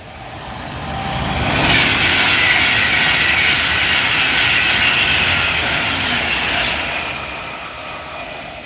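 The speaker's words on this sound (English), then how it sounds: "Oh, here's a Pendolino class 390." A Pendolino Class 390 train rushes past on the West Coast Main Line at Rugeley, a loud broadband roar that swells over about two seconds, holds steady, then fades gradually.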